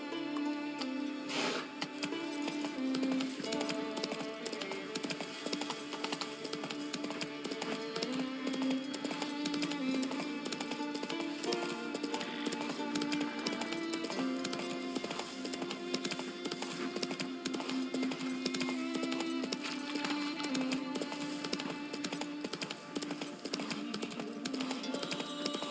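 A horse gallops steadily in The Witcher 3, its hooves making a continuous rhythmic clip-clop that runs throughout at an even, moderately close level over a constant layer of background game sound.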